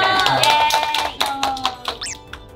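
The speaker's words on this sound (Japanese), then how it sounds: "何その拍手" A few quick hand claps patter under lively talk during a casual quiz game, sparse and loosely rhythmic rather than a full round of applause.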